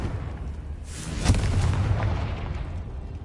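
The Confringo spell in a Hogwarts video game bursts into a loud, booming explosion about a second in, followed by a rumbling roar that slowly fades.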